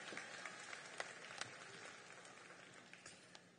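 Applause from an audience at a hula competition, a soft, distant patter of clapping with scattered sharper individual claps standing out, continuing evenly at low level.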